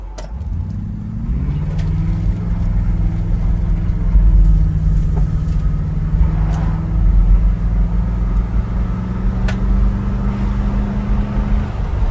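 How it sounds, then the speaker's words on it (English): A 1964 Ford Galaxie 500 with a 390 V8 and four-barrel carburetor pulls hard under acceleration, a deep steady engine roar climbing in pitch and holding loud and close throughout the twelve seconds with no talk. "We're going to turn around, and I'll let those secondaries on that 4-barrel open up."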